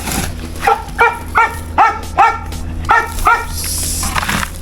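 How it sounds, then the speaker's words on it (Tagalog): A dog barks in about seven sharp, loud, close barks, grouped in two bursts with short pauses between them, over a steady low background hum. "Ingay yung aso natin."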